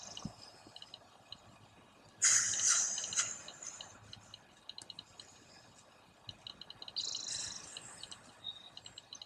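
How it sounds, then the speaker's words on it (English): An owl hoots faintly in the distance among scattered bird chirps during an outdoor qigong session, with a louder burst of bird calls partway through. "There's the owl hooting in the distance affirming this."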